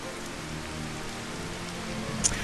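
Steady rain falls across the scene in the video game Final Fantasy XV, a dense even hiss with no talk over it and a brief brighter tick near the end.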